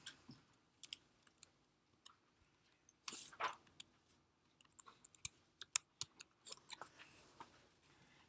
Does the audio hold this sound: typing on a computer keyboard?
yes